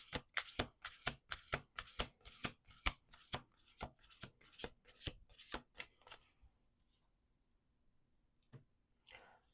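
A deck of oracle cards is shuffled in quick rhythmic riffling bursts, close and crisp, about a dozen in a row before tapering off into quiet with a faint rustle at the end.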